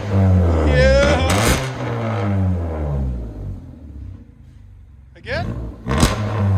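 A 1991 Honda Civic with a straight pipe exhaust revs hard, a loud rasping engine roar that climbs and falls, then a second sharp burst of revving near the end, with people talking over it.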